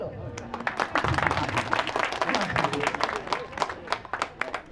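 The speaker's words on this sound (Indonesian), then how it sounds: "Nah, tepuk tangan Celo." A seated audience at a council chair's community meeting claps together in a brief burst of applause, a dense patter of many hands that swells and then tapers off.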